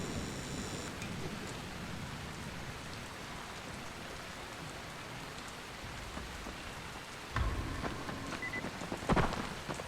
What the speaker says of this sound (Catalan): Està plovent.